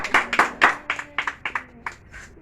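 A church congregation claps in praise, about a dozen sharp, fairly regular claps that come close and clear, then soften and scatter toward the end.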